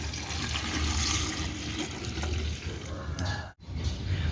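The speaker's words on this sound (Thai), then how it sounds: "หลังจากนั้นเราก็เติมน้ำเปล่า" Plain water poured onto small chopped pieces of aloe vera in a container to make a bio-fertilizer, a steady close splashing and gushing that runs nearly the whole time with one brief break near the end.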